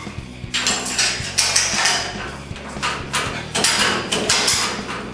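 Metal clanks and ratcheting clicks come from a bolt being fitted through spacers into a Goatbuilt coilover shock, repeated close and moderately loud with no speech.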